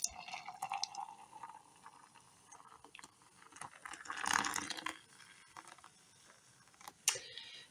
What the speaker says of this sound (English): And I'm going to start adding my coffee.